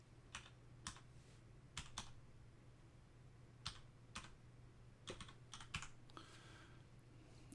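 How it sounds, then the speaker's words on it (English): Someone types a few words on a computer keyboard in quiet, scattered keystrokes and short bursts, close up, with a low steady hum underneath. "let me type that in"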